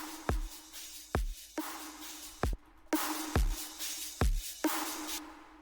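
Raw drum bus with no processing plays alone, a steady pattern of about six deep, punchy kicks under a brighter snare or hi-hat layer and a sustained low tone, clear and upfront.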